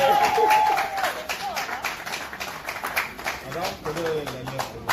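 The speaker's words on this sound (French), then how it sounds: "Est-ce qu'on peut applaudir," Guests at a wedding party clap in a steady, dense burst of applause under crowd noise and voices, loud and close throughout.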